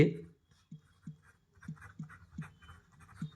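A pen scratches out a math solution by hand in short, regular strokes, quiet and close. A voice is heard at the very start.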